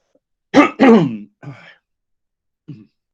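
A sick man gives a few throat-clearing coughs in quick succession, close and fairly loud, followed by a softer short cough after a pause.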